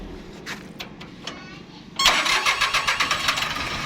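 A small Japanese-imported walk-behind tractor engine cranks over with a few scattered clicks, then catches and settles into a loud, pulsing, rhythmic idle close by.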